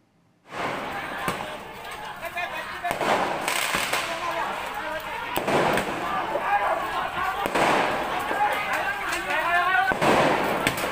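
Firecrackers set off during a street brawl between youth groups on Jalan Karanganyar in Sawah Besar, Central Jakarta, at night, giving repeated sharp bangs over a loud, chaotic crowd din with people shouting throughout.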